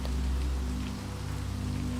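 Steady rain pours down on a stormy night, a dense, constant hiss of drops on surfaces with a low droning hum beneath, continuous and fairly loud without any voices.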